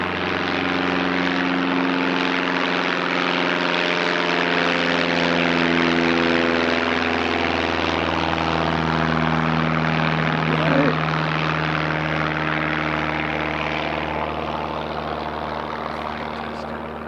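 A small Aero Club propeller plane drones steadily nearby, its engine hum holding strong with layered tonal harmonics that slowly shift in pitch as it passes.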